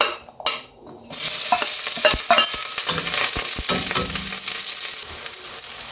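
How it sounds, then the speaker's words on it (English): Ginger and spring onion whites hit hot oil in a wok over medium-low heat for a Dongpo pork hock dish, bursting into a loud steady sizzle with scraping stirs and clanks of the spatula. "Put in the ginger and spring onion white"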